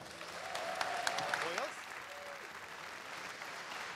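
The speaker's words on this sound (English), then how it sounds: "please give a very welcoming round of applause to Bob and Ellie from the Shadow of War team" Gaming expo audience giving a welcoming round of applause, clapping at moderate distance under a brief speaking voice, swelling early then easing off.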